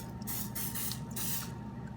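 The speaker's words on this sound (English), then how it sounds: "So we just start with doing a little bit of spray" Cooking oil spray hisses into a pan in several short bursts, each a soft airy rush over a steady low kitchen hum.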